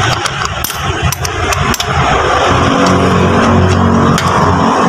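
A 2021 Toyota Avanza Dual VVTi engine runs loudly up close while it shakes and stutters with a misfire, the steady mechanical hum broken by sharp metallic ticks and clicks in the first couple of seconds.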